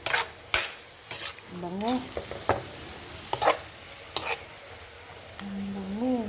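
Lumayagan being stirred while it fries in a pan: a spatula scrapes in repeated, uneven strokes over a low sizzle, with occasional squeaky scrapes and a brief spoken word.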